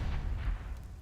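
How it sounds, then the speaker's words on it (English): A grenade explosion in a Counter-Strike match, a short, deep, muffled boom with low rumbling tail, fairly quiet in the mix. "Hampus walking into a grenade"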